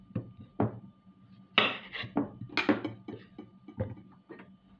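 Clattering kitchen sounds while washing and trimming zucchini: scattered knocks and scrapes of a knife and utensils against a board, irregular and close, with no talking.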